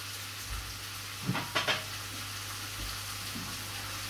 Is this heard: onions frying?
yes